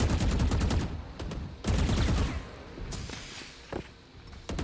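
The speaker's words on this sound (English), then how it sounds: "they're spamming bullets through it, hoping to get a lucky headshot or something on somebody" Gunfire in a competitive esports match, NRG vs Ghost: loud bursts of rapid shots that come in clustered volleys, then ease to quieter, scattered pops and steps near the end, with no talk over them.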